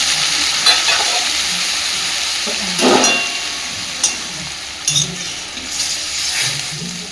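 Fish in a mustard and cumin paste sauce sizzles in a pan while being stirred, a loud, steady frying hiss with occasional scraping knocks of the spoon.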